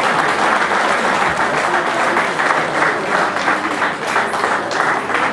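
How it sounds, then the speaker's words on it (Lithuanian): Steady, full applause from a seated audience at a city awards ceremony honouring young athletes in Šiauliai, dense even clapping throughout with no talk over it. "Audringi plojimai Dovilei Dzindzaletaitei"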